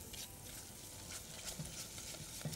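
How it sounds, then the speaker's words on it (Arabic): Flour cooking in a pan gives a soft, continuous faint sizzle with light stirring scrapes throughout, close but quiet, with no voices. "نطبخ الدقيق شوية علشان طعم الدقيق الناي ده يروح منه"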